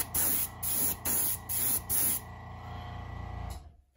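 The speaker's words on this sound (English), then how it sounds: "just one thing to say about spraying inks, they are quite thinner than normal airbrush paint" Airbrush spraying thin ink onto a fishing lure being painted in a fire tiger pattern: several short, loud hissing bursts in a steady rhythm, then one longer continuous spray that tapers off to silence.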